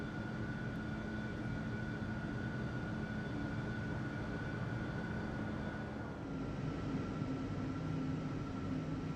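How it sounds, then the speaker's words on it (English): Airliner engines roar past in a flight simulator game, a steady broadband rumble with a tonal whine holding throughout and shifting slightly near the end, loud and continuous with no talk. "Let's get a flyby as we depart."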